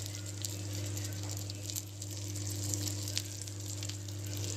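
Green masala fish frying in a pan on low heat, a soft continuous sizzle with faint crackles over a steady low hum.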